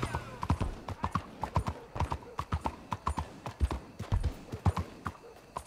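Horse hooves in Red Dead Redemption 2 while riding through a city, a brisk, even clip-clop of many close hoofbeats, with soft voices faintly underneath.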